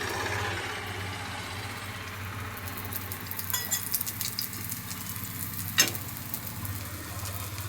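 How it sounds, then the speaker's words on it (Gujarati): A rice dhebra flatbread roasts on a tawa over a low flame, a faint steady sizzle under a low background hum, with one brief sharp clink near the end. "તો હવે એને તવીમાં શેકી દઈશું"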